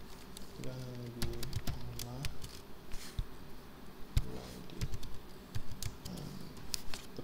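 Quick, light clicking keystrokes on a computer keyboard as an email address is typed, scattered in bursts beneath a voice talking.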